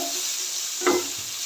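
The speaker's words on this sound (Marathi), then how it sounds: "थोडासा टोमॅटो कांदा आता तीन चार मिनटं शिजू देऊया आपण तेलावर" Chopped tomato and onion fry in oil with a steady, soft sizzle close by. One brief scrape of stirring rises over it partway through.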